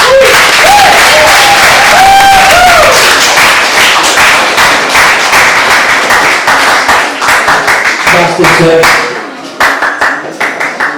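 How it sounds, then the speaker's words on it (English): Audience at a mental health and World Homeless Day event bursts into loud, close clapping with cheers, a voice speaking over it before the applause thins into scattered claps near the end. "Big round of applause for Seb, that was amazing."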